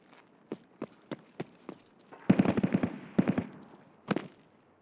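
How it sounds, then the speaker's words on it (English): Footsteps in a video game: evenly spaced single steps, then a quicker burst of rapid, overlapping thuds and a last couple of steps, moderately close with no talk. "Can't tell if I heard a footstep up here or if it was my own reflection of my footstep dropping down."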